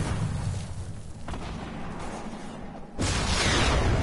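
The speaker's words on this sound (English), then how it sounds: "someone's shooting me with the guided missile" Guided missile explosion in Fortnite: a dull, rumbling rush builds, then a sudden, louder broad blast hits near the end and keeps roaring, with no speech.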